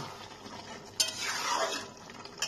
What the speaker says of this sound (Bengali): এই পোস্তটাকে ভাজতে ভাজতে আলুর সাথে আর ঝিঙের সাথে